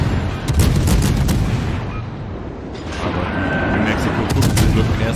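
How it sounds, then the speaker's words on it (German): Warship guns fire in the naval battle game World of Warships Legends, a dense rumbling barrage of booming shots that keeps rolling for several seconds. Several sharper bursts punch through, and a voice talks faintly under the fire. "Daher ballern wir jetzt ruhig los"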